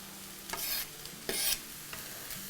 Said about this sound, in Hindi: अब हम क्या करते हैं कि इसमें हमारा ये गाजर डाल देते हैं